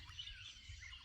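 Faint bird chirps and tweets in a morning outdoor setting beside a riverbank, brief and soft over a low steady background hum.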